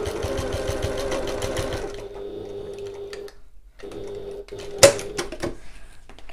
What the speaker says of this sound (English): Pop that under the presser foot. Sew that at 1/4 inch seam allowance,